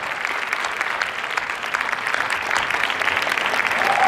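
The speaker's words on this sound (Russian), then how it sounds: "Ваши аплодисменты." Film premiere audience applauding as cast members are introduced: dense, steady clapping from a large crowd that stays loud and even, swelling slightly toward the end.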